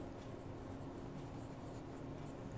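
Jinhao X750 fountain pen with a 1.5 Goulet nib and Diamine Blue Black ink scratching steadily across paper, a faint continuous writing sound over low room hiss with no talk.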